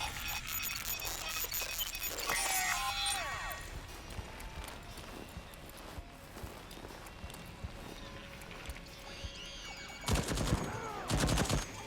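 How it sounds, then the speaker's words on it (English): Automated turret gunfire in the video game Deathloop, with rapid sharp bursts sounding near and loud toward the end among scattered game effects and footsteps; a voice talks throughout. "Use the sound of turret fire as a sort of cover"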